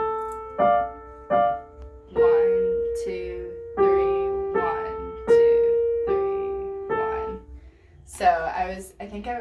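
A piano plays a simple line of held half notes, each tone sounding in even succession and ringing through its full value, followed by a brief busier passage at the end.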